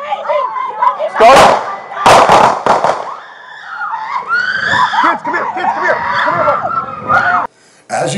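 Police officers fire six gunshots in Milwaukee, a few sharp loud cracks bunched early, then shouting and agitated voices continue close by.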